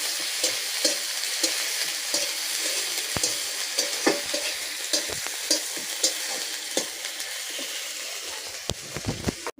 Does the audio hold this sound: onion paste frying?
yes